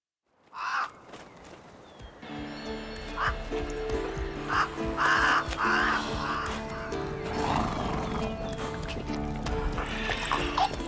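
Roach, Geralt's horse in The Witcher 3, clip-clops with steady hoof falls, joined by crows cawing and a brief neigh over a sustained musical drone.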